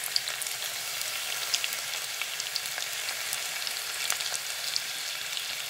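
Ginger, onion and garlic fry in ghee in a pan with a steady, crackling sizzle, dense and even, with scattered sharper pops and no talking.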